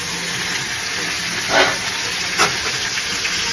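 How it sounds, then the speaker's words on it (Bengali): Meat dropped into a pan of reddened fried onions sizzles with a steady steamy hiss, with two short louder bursts of crackle as pieces hit the hot oil; no talking. "এদিকে লাল করে পেঁয়াজ ভাজলাম, ভাজার পরে মাংস ধুয়ে রেখেছি, মাংসগুলো দিয়ে দিই"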